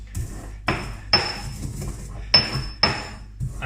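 Pestle striking and grinding peppercorns in a mortar, sharp clinks and scrapes in an irregular rhythm, five or six distinct hits, close and clear with no talk.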